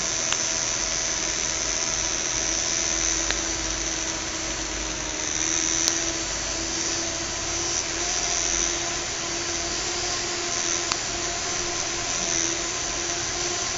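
A small fischertechnik model motor spins with a steady, high-pitched whine and a constant buzzing hum that holds throughout. No one speaks.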